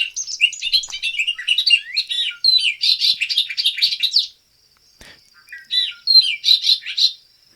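A songbird delivering a rich, jumbled melodic song outdoors, with rapid bursts of varied notes, a brief pause, then another phrase, clear and fairly close with no voices.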